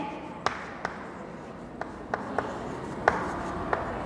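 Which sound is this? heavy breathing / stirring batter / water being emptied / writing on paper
writing on paper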